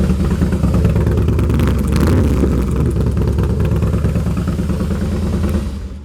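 A 2010 Harley-Davidson Fat Boy sits in neutral at a motorcycle dealership, its engine running with a steady, loud, deep lumpy rumble that holds through the whole stretch with no talk over it.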